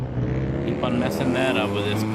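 Engine of a BDC V6 drift car in the Assetto Corsa racing game, played with a Fanatec Clubsport wheel and pedal shifter, droning steadily with revs shifting as the car slows and downshifts, heard under continuous talk.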